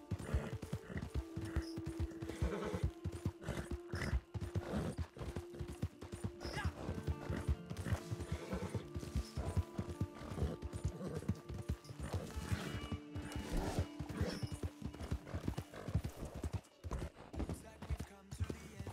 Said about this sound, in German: Alter, warum ist hier eine Pferdekutsche auf dem Weg?